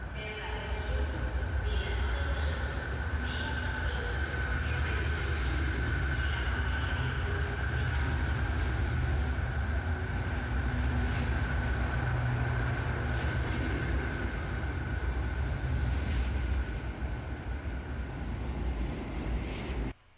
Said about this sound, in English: And here's our train back to Barcelona.